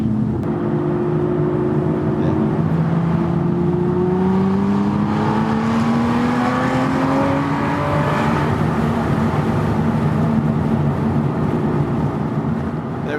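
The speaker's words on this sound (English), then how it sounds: "I give you the V12 Vantage S" Aston Martin V12 Vantage S pulling away in second gear after a roundabout, its V12 engine droning loudly and climbing in pitch as it accelerates, with a steady roar and rising harmonic whine throughout.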